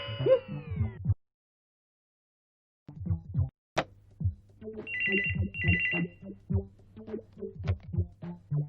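A telephone ringtone chirps in bursts at moderate level, broken by a long silent gap, then continues in repeated electronic trills over a low steady hum and scattered background clatter in a home setting.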